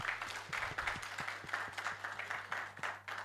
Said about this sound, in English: One more time, big round of applause.